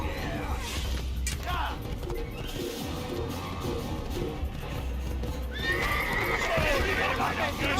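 Horse neighs and whinnies in the Assassin's Creed video game, with clip-clopping hooves and game voices mixed in, the neigh rising louder near the end.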